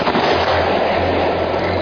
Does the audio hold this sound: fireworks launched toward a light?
yes